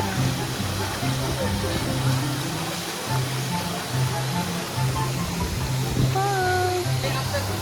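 A constant rushing roar of a waterfall, Panindingan Falls in Dipaculao, Aurora, broadband and steady throughout, with faint voices and a brief whistle-like tone partway through.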